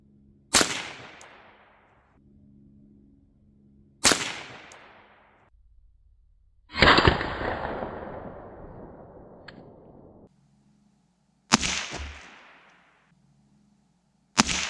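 .22 Long Rifle rifle fired at soda cans outdoors: four sharp, loud cracks spaced a few seconds apart, one followed by a longer fizzing spray of liquid from a burst can, with quiet pauses between.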